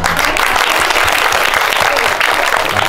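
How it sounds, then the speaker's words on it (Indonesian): A live audience at a children's cultural performance claps loudly and steadily throughout, dense close applause with a faint murmur of voices mixed in underneath. "Tepuk tangan"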